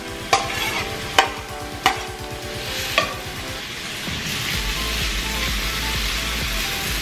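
Bacon dropped into butter in a hot pan, a few sharp clacks as pieces land, then a steady close sizzle of frying that settles into an even hiss.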